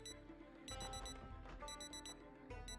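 Wristwatch alarm from the video game Project Zomboid, a bright electronic beeping repeating in rapid bursts over dense game music, loud and close throughout.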